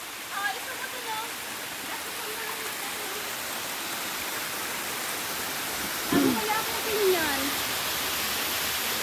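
A waterfall pours in a steady broadband rush, and a few faint voices and brief calls rise over it near the middle and end.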